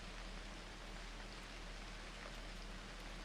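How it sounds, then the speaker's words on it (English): Steady rain falls in the Unreal World survival game, a continuous even hiss of drops on the ground with no voices. "Oh, it's raining."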